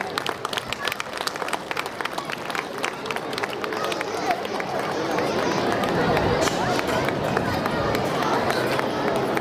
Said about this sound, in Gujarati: તાળીઓ તો પાડીએ.